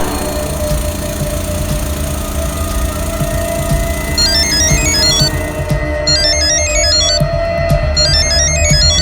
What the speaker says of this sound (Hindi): ये रमन फोन ही नहीं उठा रहा है।